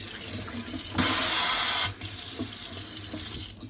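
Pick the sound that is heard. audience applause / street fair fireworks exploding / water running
water running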